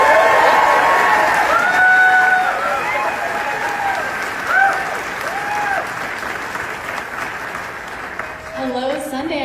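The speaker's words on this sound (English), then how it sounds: "Please give her a big round of applause." A Sundance audience applauds and cheers for a director, dense clapping with a voice or sung tones rising over it, fading somewhat before a speaker starts talking near the end.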